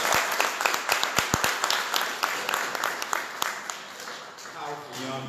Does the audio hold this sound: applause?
yes